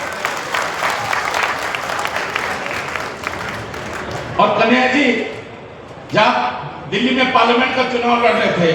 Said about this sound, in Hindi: जोरदार ताली बजाओ भाई सब लोग